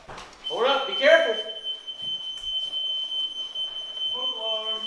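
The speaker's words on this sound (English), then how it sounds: "Smoke alarm." A smoke alarm inside a building gives a sustained high electronic beep during a milsim airsoft building-clearing exercise. Players talk loudly and close by over the start of it, and the tone keeps sounding steadily underneath.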